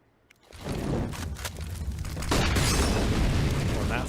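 A Molotov catching fire on the sandbags on Vertigo in Counter-Strike, a sudden loud whoosh that settles into a continuous roaring, crackling burn that grows slightly louder near the end.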